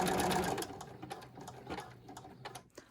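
Home sewing machine with lowered feed dogs stitching an in-place zigzag to attach a four-hole button; a fast mechanical chatter that starts loud and slows into uneven clicks and thumps as it stops, close by.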